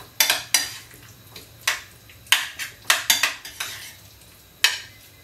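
A spoon scrapes and clinks against a pan in short separate strokes while chili flakes are stirred into food, crisp and close, with quiet gaps between strokes.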